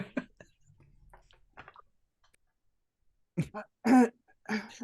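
A few short coughs and throat clearings, close and dry, separated by quiet stretches, with faint low murmuring in between.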